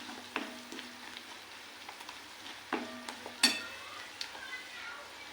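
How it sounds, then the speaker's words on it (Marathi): Spices, garlic paste and onion sautéed in a pan for a cauliflower curry, with a soft steady sizzle under scattered close scrapes and clinks of a spoon stirring against the metal, one sharper knock midway. "मसाले छान परतून घ्यायचे।"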